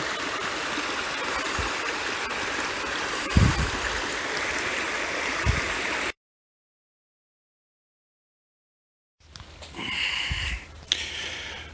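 Spruce Run, a woodland creek, flows in a steady broadband rush, broken by a few soft thumps, then a sudden stretch of silence before the water returns with brighter splashing.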